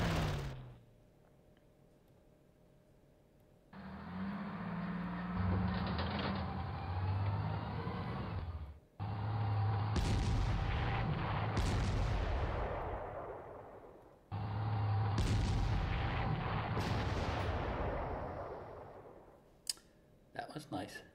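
Artillery bombardment in a World War II strategy war game set at Kursk, heavy booming blasts and long rumbling roars in several sustained waves with sharp onsets, loud and close, separated by quiet gaps.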